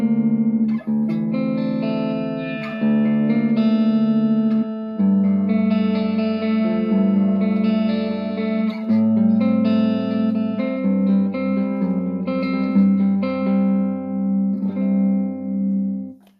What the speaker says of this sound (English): Again, I've got it set to a fairly small reverb.